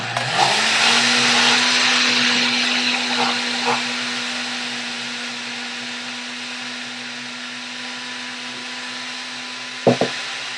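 A blender whirs loudly and steadily, mixing a banana breakfast smoothie, with a sustained motor hum that eases slightly before a brief clatter near the end.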